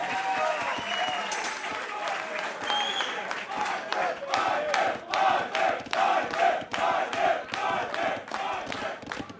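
A live crowd at an esports LAN quarterfinal roars and claps in rising bursts, with shouts and cheers surging in waves under excited commentary.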